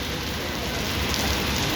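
Heavy rain falls in Lahore, a dense and even hiss of drops hitting hard surfaces close by that stays level and unbroken throughout, with no voices.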